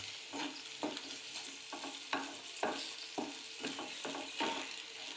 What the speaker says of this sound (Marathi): छान परत एकदा मिक्स करून घ्यायचं आहे आपल्याला